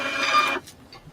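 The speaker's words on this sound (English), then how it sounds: "That sounds like a printer." A short burst of printer-like mechanical whirring and rasping, close and moderately loud, cuts off abruptly after about half a second, leaving faint clicks and quiet room tone.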